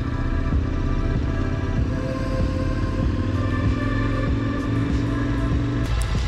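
A group of ten KTM adventure motorcycles, including a KTM 640 Adventure, rumbles and idles close by in a continuous low engine drone as the riders set off on a guided morning ride.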